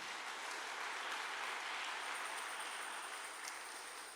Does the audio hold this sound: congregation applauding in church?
yes